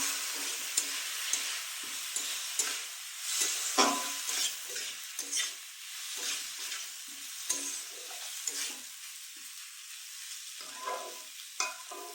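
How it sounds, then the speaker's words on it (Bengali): Soaked Gobindobhog rice, potato and spices fry together in a pan for a katla fish dish, a steady sizzle broken by repeated scraping stirs of a spoon, close and alone without any talk. "চাল আলু মশলা দিয়ে একসাথে কষবো"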